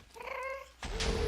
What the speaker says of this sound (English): Getting shot by a ghast